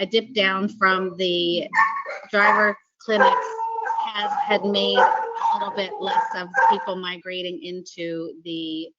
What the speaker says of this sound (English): again, I apologize about the dogs